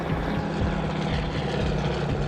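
Cirrus single-engine propeller airplane in flight through rough, windy weather, a loud, steady cabin drone with a low pulsing throb and wind rush throughout, no talking.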